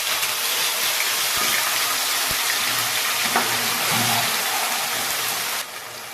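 Ground spice paste hitting hot oil tempered with cardamom, cinnamon, clove, cumin and asafoetida, making a loud, continuous sizzle with a few soft clinks.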